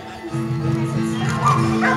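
Sled dogs in Alaska yip and bark excitedly at the start of a team run, a busy overlapping chorus of close barks and whimpers that runs through the whole moment.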